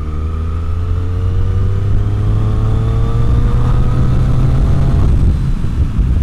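A 2013 Triumph Street Triple R engine drones steadily while being ridden in sixth gear on the road, its pitch slowly climbing as it pulls uphill, loud and close, mixed with wind rush and no talking.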